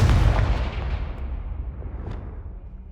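A Confringo blasting spell erupts in the Hogwarts Legacy video game as a single loud, deep explosion that booms and then fades into a rumbling decay over a few seconds, with no talking.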